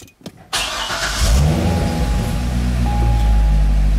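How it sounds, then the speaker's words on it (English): A Chevrolet Corvette with ABS and traction control faults cranks over and its engine catches, then settles into a steady, loud idle close by with a faint whine above it, no talking. "The engine is running right now."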